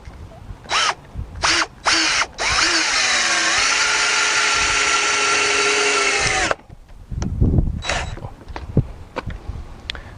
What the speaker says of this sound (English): I'll toenail in a 3-inch screw